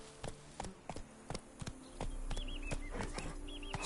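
Hooves of a horse clip-clop in a quick, irregular run on a game's soundtrack, sharp near hoof strikes spaced through the passage over low background ambience, with faint high chirps later on.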